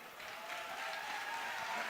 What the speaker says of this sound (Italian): applauso per loro